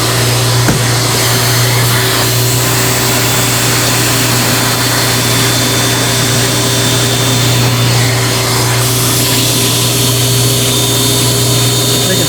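A hot-water extraction vacuum draws steadily across synthetic upholstery fabric, giving a loud, constant suction roar with a hum, running unbroken without voices.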